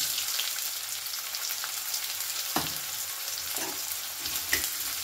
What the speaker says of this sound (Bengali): পেঁয়াজটা কিন্তু বেশ একটু ভালো করে ভেজে নেব।